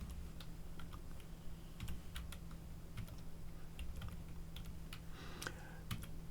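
Scattered keystrokes on a computer keyboard, soft, fairly close clicks in an irregular rhythm with a brief quick burst of taps near the end, set against a steady low hum and no voices.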